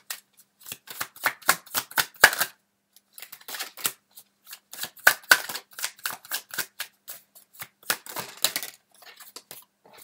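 Tarot cards shuffled and drawn, giving quick crisp flicking and snapping bursts in irregular clusters with brief pauses between, close and fairly loud.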